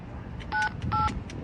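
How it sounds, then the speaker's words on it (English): A pay phone being dialed by touch-tone, two crisp, loud DTMF beeps, each about a fifth of a second long, in quick succession over a faint background murmur. "call my old phone number from when I was a kid"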